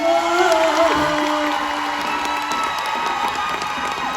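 A crowd at a Thai likay folk theatre performance cheers, whoops and claps loudly, a sustained burst of excited voices with a lingering tone from the stage sound system underneath.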